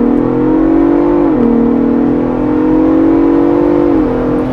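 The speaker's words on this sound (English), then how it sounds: "Off the line, on the gas, sport mode, boost." A 2024 Ford Bronco Raptor accelerating hard in sport mode from inside the cabin, its engine droning loudly and rising steadily in pitch, with two brief dips as it shifts gears.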